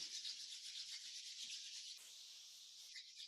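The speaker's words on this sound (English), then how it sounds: "rub your hands together vigorously" Hands rubbing together vigorously during a yin yoga practice, a steady close, breathy friction hiss that runs continuously, briefly easing and then resuming, with no talk.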